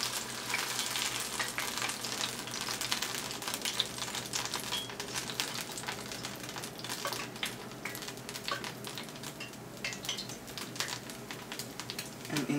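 Funnel cake batter, swirled in a spiral, fries in hot oil with a steady, dense sizzle and crackle that stays close and fairly loud throughout, unbroken by talk.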